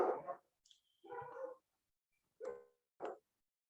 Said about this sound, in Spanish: ¿Se escuchan mucho los perros? No, están ladrando ahí afuera mucho